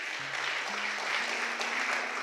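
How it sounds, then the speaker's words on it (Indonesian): A church congregation applauds in a steady, dense wash of clapping for the whole short span. A faint low tone hums underneath. "Tepuk tangan bagi Tuhan Yesus, haleluya"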